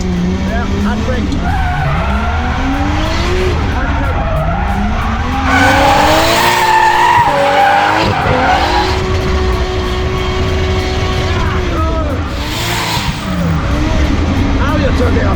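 A car drifting with the handbrake pulled, engine revving and sweeping up and down while the tires skid and squeal loudly through several slides, close and continuous, with voices talking over it.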